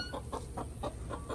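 Backyard hens, some with missing feathers, cluck in a quick regular run of about six soft calls, close by and steady, with no talk over them.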